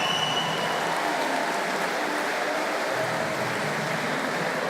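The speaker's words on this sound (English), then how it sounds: "let's have a round of applause, please, for two game warriors" Steady applause from a boxing crowd after ten rounds of championship action, a dense, continuous wash of clapping that stays loud and even throughout, with no voices standing out.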